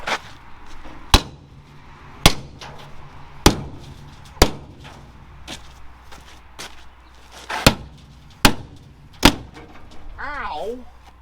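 Sharp hammer strikes ring out one at a time at irregular intervals, about eight hits, with quiet voices murmuring between them.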